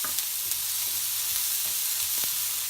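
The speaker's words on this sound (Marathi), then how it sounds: "सगळं गरम झाल्यानंतर त्याच्यामध्ये कांदा टाकायचा आहे। पूर्ण छान ढवळून घ्यायचं आहे।" Chopped onion frying and being stirred in a hot pan with green chillies for paneer bhurji, a steady low sizzle with faint scraping strokes throughout, no talking.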